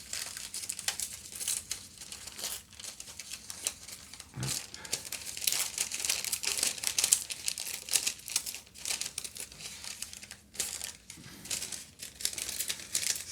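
Paper torn roughly by hand for a mixed media art journal: a long stretch of close, crackling rips and crinkles, continuous and moderately quiet, with no talking over it.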